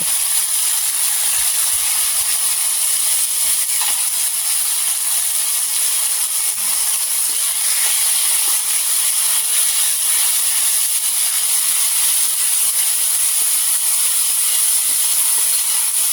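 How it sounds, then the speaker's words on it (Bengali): Mustard paste fries in hot oil with green chillies and black cumin, giving a constant loud hiss and sizzle that holds steady without a break. "এবারে এর মধ্যে আমি সর্ষে বাটা দিয়ে ভালো করে কষিয়ে নেব।"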